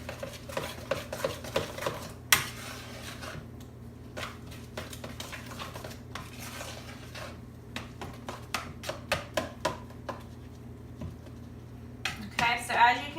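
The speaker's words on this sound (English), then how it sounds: "Grab another spatula here and just kind of mix this up in the bowl" Lasagna filling with egg is stirred in a bowl with a spatula, giving soft repeated scraping and tapping strokes in an uneven rhythm against a low background hum.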